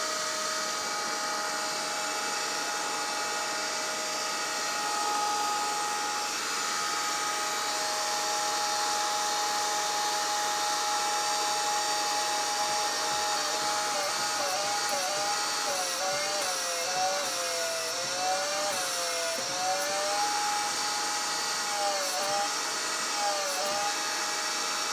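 A knifesmith's forge heats up for Damascus steel made from scrap pieces, giving a steady, close roaring hiss that runs unbroken throughout, with faint wavering whistle tones appearing toward the end.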